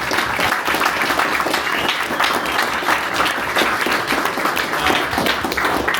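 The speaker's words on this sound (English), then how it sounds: "And give Oleg a big round of applause." Attendees at a Houston community workshop clap at the close of a talk, a full, even round of applause from a modest crowd that continues steadily throughout without speech on top.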